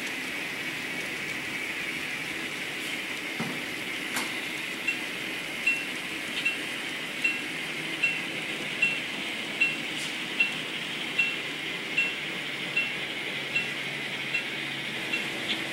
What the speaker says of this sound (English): we have Richard's Pennsylvania passenger train going around on the outside